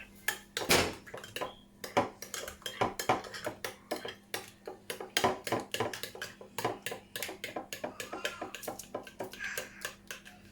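Spoon clinking and scraping against a bowl while shawarma sauce is briskly stirred, irregular close taps and rattles over a faint background hum, no talking.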